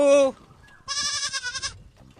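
A goat bleats loudly and close by in two separate cries, with a voice between them and a little talk after.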